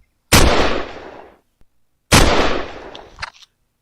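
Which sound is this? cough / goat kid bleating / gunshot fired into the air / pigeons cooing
gunshot fired into the air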